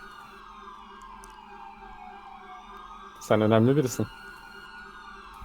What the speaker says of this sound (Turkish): Şu siren sesleri bir gelsin yaklaşsın da.